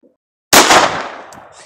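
A single sharp report from a Beretta Model 21A Bobcat pistol fired outdoors cracks after a moment of silence, then decays into a fading echo.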